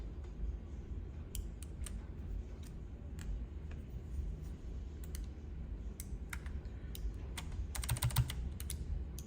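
Keys clack on a Redragon Azure low-profile mechanical keyboard, a string of crisp, close clicks in irregular typing rhythm that bunch into a fast burst near the end.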